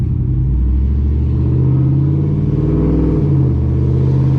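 A loud truck engine, a Sierra 5.3 with a tune, roars continuously at full throttle as it accelerates hard, its deep rumbling pitch rising and shifting, heard close up with no talking.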